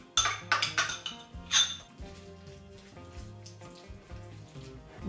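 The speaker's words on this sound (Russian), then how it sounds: "И все хорошо перемешиваю." Minced chicken breast cutlet mixture with onion, bell pepper, herbs, mayonnaise and flour being stirred in a bowl, starting with several bright clinks of a utensil against the bowl and then soft, quiet mixing sounds, with no talk.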